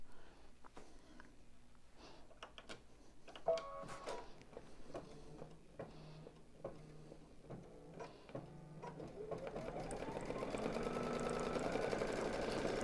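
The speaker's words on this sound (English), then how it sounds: "The next step is going to stitch a placement line for the eye patch" An embroidery machine stitches an appliqué placement line, giving scattered mechanical clicks and taps before settling into a steady, rapid whirring stitch rhythm that grows fuller toward the end, close and fairly quiet with no talking.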